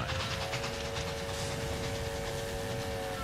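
A packed Civil War-era troop and supply train rumbles along the tracks at speed, a steady dense roar with a faint rhythmic clatter and a thin sustained whine running throughout.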